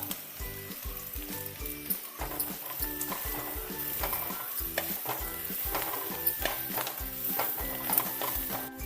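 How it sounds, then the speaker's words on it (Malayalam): Chopped Ponnaamkanni spinach is stir-fried in a pan, giving a steady close sizzle with repeated rhythmic scraping and clattering strokes of a spoon against the pan throughout, and no talking. "ഇനി നമുക്കിതിലേക്ക് അരിഞ്ഞു വെച്ച ചീര ഇട്ട് കൊടുക്കുക"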